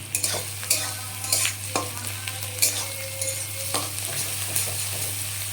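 Onions fry in a pan for a fish curry, giving a close, steady sizzle broken by regular scraping stirs and clanks of a spatula, with a low mains hum underneath and no speech.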